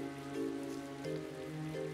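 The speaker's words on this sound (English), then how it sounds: "Lots of rain, that's for sure." Steady rain patter in Tales of Vesperia, with sustained musical tones playing underneath.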